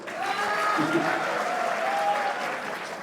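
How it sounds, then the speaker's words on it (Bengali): An audience at a tech talent award event applauds the programme presenter, sustained even clapping from a room full of people, moderately loud, with a voice faintly underneath. "আজকে প্রোগ্রামের যে উপস্থাপিকা তার জন্য একটা চমৎকার করতালি হওয়া উচিত"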